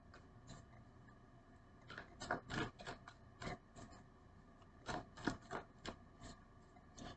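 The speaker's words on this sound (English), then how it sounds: "I'm going to put some more cards here for my Geminis." Tarot cards being laid out and shuffled on a table, a close, quiet sequence of soft papery slaps and flicks in uneven clusters, with no talk.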